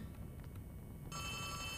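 A telephone rings in the Poppy Playtime Chapter 3 video game, a faint muffled tone that turns into a brighter, louder ring partway through the short stretch.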